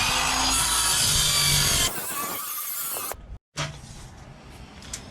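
Plywood being cut for a DIY skiff boat build, a loud close saw rasp for about two seconds, then quieter rubbing and scraping of wood with a brief silent gap near the end.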